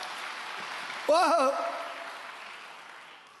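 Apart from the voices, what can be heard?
congregation applauding in church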